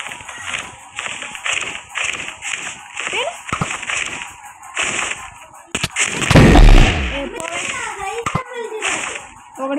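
A Minecraft explosion erupts as a short, heavy booming burst partway through, surrounded by excited children's voices talking and game sound effects.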